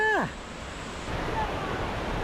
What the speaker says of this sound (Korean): 계곡 물소리 너무 좋아